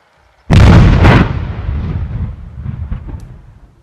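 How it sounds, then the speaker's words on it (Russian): A sudden, very loud explosion goes off during militia training, with a sharp double-punched blast that rolls into a long rumbling tail, with no voices. "Взрыв!"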